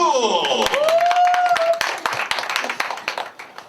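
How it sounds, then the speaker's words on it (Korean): A voice sings a sustained note, then a crowd at a janggu drum class breaks into scattered clapping that fades over a few seconds. "장구야 나오셨어요 박수!"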